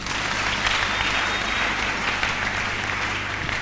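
A church congregation claps in loud, sustained applause that fills the room evenly from start to finish, with no voice rising above it.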